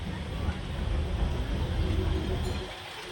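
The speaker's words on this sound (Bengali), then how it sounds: "ছেড়ে দিয়েছে ট্রেন।" A train pulls out of Pathankot Junction on a journey from Amritsar to Jammu, heard from on board as a steady low rumble that holds evenly throughout and fades slightly at the very end.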